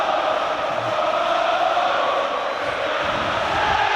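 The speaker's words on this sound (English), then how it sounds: "I think you can hear the crowd." A football stadium crowd at a Scottish league match between Celtic and Hearts roars as a steady, dense wall of noise with no distinct cheers or chants standing out.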